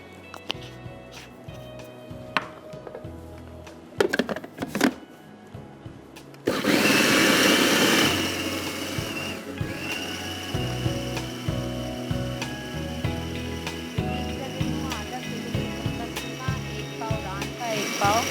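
An electric spice grinder whirs through garam masala and allspice powder. It starts with a loud, dense roar and then settles into a steady mechanical whine and rattle with some clatter.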